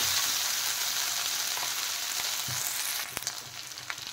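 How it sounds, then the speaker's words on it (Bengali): Ginger and garlic paste fries with potatoes in a pan of hot oil, giving a steady loud sizzle; near the end a few sharp clinks and scrapes of stirring break through as the sizzle eases slightly. "দিয়ে আরেকটু নেড়ে দেবো যাতে মশলার কাঁচা গন্ধটা বেরিয়ে যায়।"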